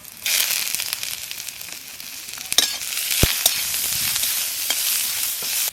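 Chopped garlic and ginger fry with two bay leaves in a little oil, a steady loud sizzle running throughout with occasional sharper crackles and stirring clinks.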